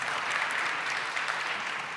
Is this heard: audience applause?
yes